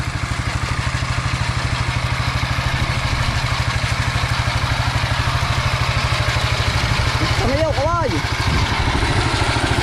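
A brand-new motorcycle engine idles nearby beside a rice field at harvest, a steady, even mechanical putter that runs throughout, with a voice briefly heard near the end.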